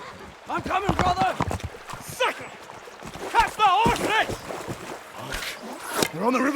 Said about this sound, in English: Catch the horses!